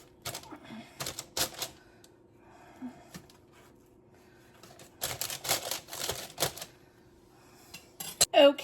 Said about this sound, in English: We'll just have to cut them in pieces.